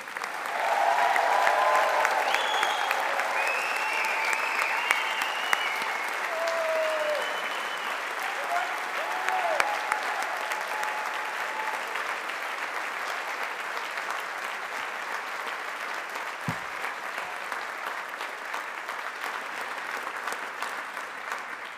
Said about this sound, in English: Let's give this class of 2025 a big round of applause.